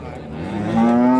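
A bull mooing at a crowded cattle market: one drawn-out, rising low moo that swells louder near its end, close by, with no speech over it.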